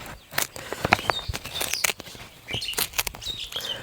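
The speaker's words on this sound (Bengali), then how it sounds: "দেখেন পাখি ডাকতেছে, সেগুলো আপনারা খুব সুন্দরভাবে শুনতে পাচ্ছেন।" Birds chirp and call in short, bright bursts in an open rural village setting, some close and some farther off, with faint rustling in between.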